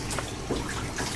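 Water runs steadily from a salon sink sprayer, rinsing the front of a client's hair, a close continuous splashing flow without talk.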